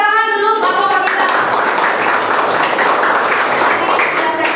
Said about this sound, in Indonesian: Tepuk tangan dulu Bapak kita.